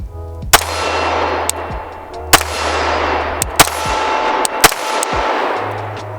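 Five sharp pistol shots from a Glock 17 MOS FS fitted with a FLUX Defense brace ring out close and loud, spaced irregularly about a second apart, each with a ringing metallic tail over a low steady hum.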